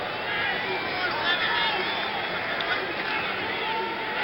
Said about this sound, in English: the chant of defense goes up from the crowd